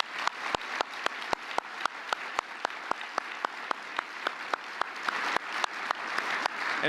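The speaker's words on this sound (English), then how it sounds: "Let's give you a big round of applause." A big round of applause at an awards dinner for a drug-free kids campaign, dense clapping from a large crowd, steady and sustained throughout.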